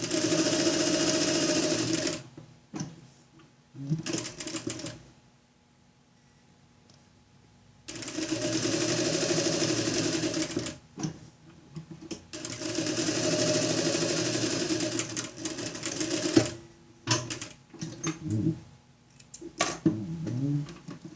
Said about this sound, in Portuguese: Fiz a costura aqui em toda a volta.